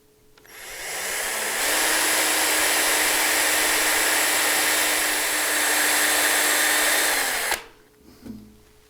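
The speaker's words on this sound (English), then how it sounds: "So we'll go ahead and drill those out now." A drill bores 5mm pilot holes in a milling machine part for a magnetic DRO mounting bracket, a loud steady whine that holds for about seven seconds, then stops abruptly with a brief clatter.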